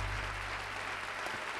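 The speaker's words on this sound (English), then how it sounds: "just in case you're wondering how I'm getting that applause" Applause sound effect triggered from a keypad, a steady wash of clapping that holds at an even, fairly quiet level throughout with no voices over it.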